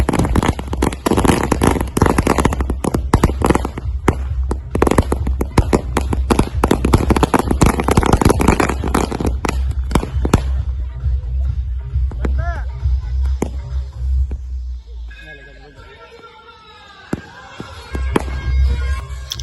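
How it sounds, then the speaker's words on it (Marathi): A string of firecrackers bursting at a wedding, a loud rapid volley of sharp bangs for about ten seconds that then thins to scattered pops amid distant voices and background noise. "फटाक्याची लढ लावलेली आता मी. फटाके फुटत आहे आता."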